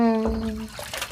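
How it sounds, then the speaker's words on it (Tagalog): Rinsing with water outdoors, a brief rush of splashing after a short tonal sound, fairly close and with no talking. "Banlawan mo ga tubig."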